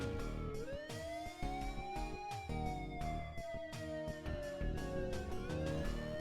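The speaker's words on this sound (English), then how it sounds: "Let me turn the siren on." Police car siren in the VGA game Police Quest I, a synthesized wail rising and falling in slow sweeps over engine hum, loud and continuous.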